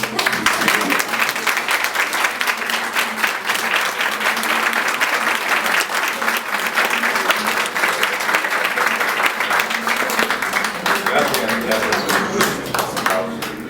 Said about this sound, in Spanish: Un aplauso para el director.